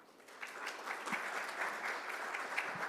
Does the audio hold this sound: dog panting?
no